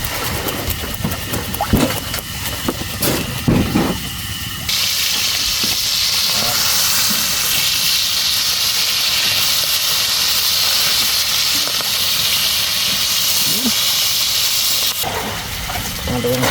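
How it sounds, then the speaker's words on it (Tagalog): Fresh, just-killed fish dropped into hot oil, a few clattering handling noises and then a loud, sustained hissing sizzle that runs steadily until near the end, where the clatter returns. "Yung sariwang isda na ating ipiprito"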